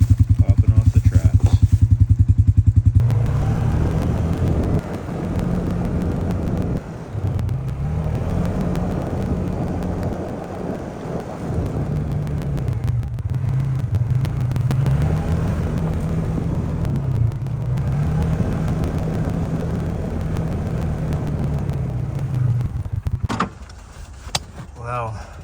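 An ATV engine runs and drives along a trapline, a continuous mid-pitched motor drone that rises and falls in pitch as it moves, with clunks at the start and finish.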